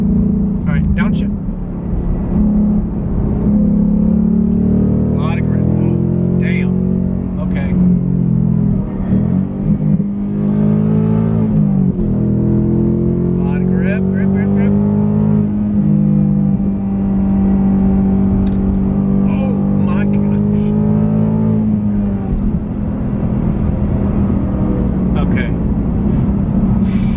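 A Ford Mustang Mach 1 with a Corsa X-pipe exhaust rumbles loudly and steadily through a downshift into a turn, its engine note shifting and pitching up and down close by while someone talks over it.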